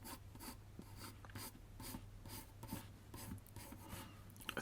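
A pencil drawing a teddy bear on paper, close and quiet: repeated scratchy strokes in an uneven back-and-forth rhythm, each a short raspy rub, with a faint low hum underneath and no talk.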